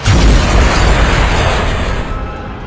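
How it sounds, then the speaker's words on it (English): A loud, booming explosion from an audio drama blasts apart the head and cockpit of the Triceratops Zord, bursting hard at the start and rumbling on for nearly three seconds. "the cockpit, and indeed most of the head of the Triceratops is destroyed"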